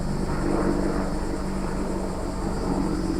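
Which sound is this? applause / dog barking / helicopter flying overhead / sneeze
helicopter flying overhead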